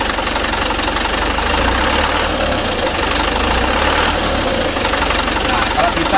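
A diesel engine with a Bosch injection pump revved gently, a loud, close, continuous rumble with a light rattling knock running through it, under a person talking.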